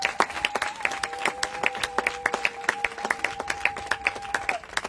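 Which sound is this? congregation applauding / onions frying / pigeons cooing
congregation applauding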